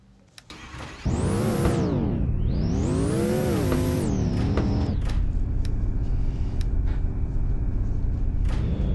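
Lamborghini Sterrato engine in a racing video game, starting up and revving loudly through rising and falling sweeps before settling into a steady, close, constant drone with no talk.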